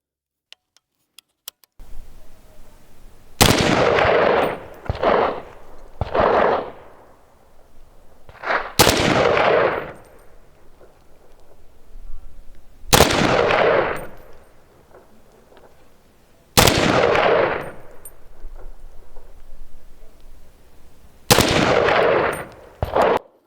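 An FN SCAR 17 rifle fires single shots while an EOTech offset optic is zeroed outdoors, about eight sharp loud cracks at irregular intervals, each followed by a decaying echo.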